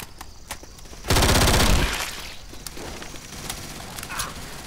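Game gunfire in Left 4 Dead 2: a loud, dense burst of rapid automatic shots lasting under a second, then a fading tail over quieter background ambience.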